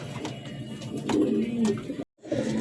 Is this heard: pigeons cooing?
yes